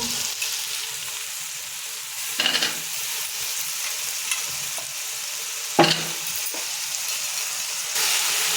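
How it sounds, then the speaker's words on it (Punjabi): Potatoes go into a pan of cooking cauliflower and vegetables with a loud, steady frying hiss and sizzle. Stirring scrapes and clatters come and go over it, with a few sharper bursts, close up and without talk. "ਲਓ ਜੀ ਵਿੱਚ ਆਪਾਂ ਪਾ ਦੇਵੇ ਆਲੂ"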